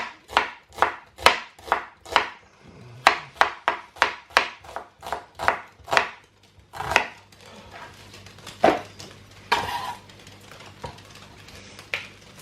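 A knife chops roughly through onions on a cutting board for cabbage and potato soup, a fast run of sharp, close thuds at first, then scattered slower cuts with light scraping.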